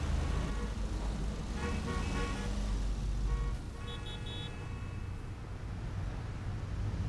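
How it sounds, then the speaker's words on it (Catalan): Dense road traffic on a Barcelona street rumbles past with passing engines, while several car horns toot in short overlapping blasts before the flow settles into a steadier hum. "Déu-n'hi-do, quin trànsit."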